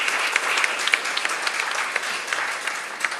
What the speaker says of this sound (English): So please join me in giving a very warm round of applause for our chief guest.